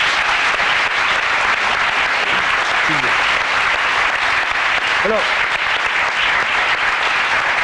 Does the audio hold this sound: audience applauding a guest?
yes